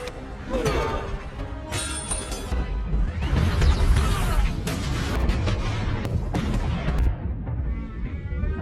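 Loud, chaotic cinematic destruction from a giant monster film: crashing, shattering debris and booming blasts rolling on for several seconds, with a sharp impact near the end.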